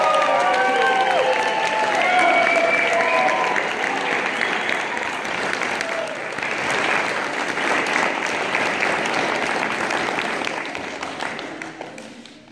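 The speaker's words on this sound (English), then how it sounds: "Let's give them one more round of applause." After a children's chorus performance of Disney music, an audience gives a dense round of applause, loud at first and slowly thinning toward the end, with a few voices and cheers mixed in near the beginning.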